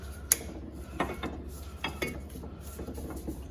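A socket ratchet wrench clicking during rear wheel bearing work on a Mazda 5, a few sparse metallic ratcheting clicks and clanks over a low steady hum, close by with no talk.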